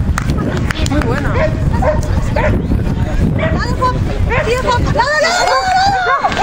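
A dog barks at an agility course, short yips and barks scattered over busy crowd babble and a handler's voice.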